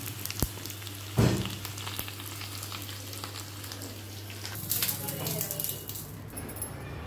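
Cumin, mustard seeds and two dried red chillies tempering in hot oil for a chow-chow kootu, giving a soft, steady sizzle with a few sharp pops and clinks, close by under a constant low hum.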